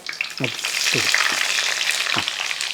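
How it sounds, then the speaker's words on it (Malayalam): Small onions sautéing in a pan for a home-style dal curry, a loud close sizzle with several quick stirring scrapes spaced through it, with no one talking. "ഇതൊന്ന് ഇളക്കി കൊടുത്ത് നന്നായിട്ടൊന്ന് വഴറ്റിയെടുക്കണം."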